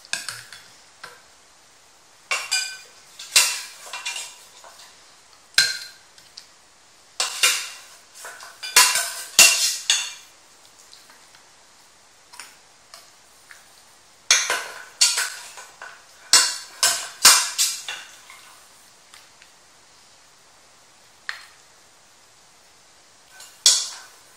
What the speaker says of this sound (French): Je vais napper avec un tout petit peu de sauce.